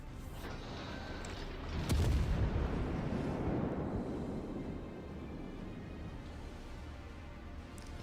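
USS Alaska main battery firing armour-piercing shells in World of Warships, a single heavy booming salvo with a deep rumble that lingers and slowly fades over several seconds.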